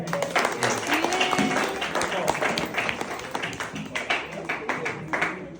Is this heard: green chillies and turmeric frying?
no